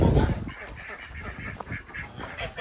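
Smallholding ducks and geese honking and quacking together outdoors at Christmas feeding time, a close, busy jumble of fowl calls with a person talking among them.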